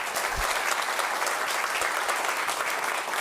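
Dense, steady audience applause at a live public science talk on clouds and climate, a continuous wash of many hands clapping with no voices over it.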